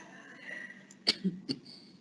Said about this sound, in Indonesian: maaf saya batuk dikit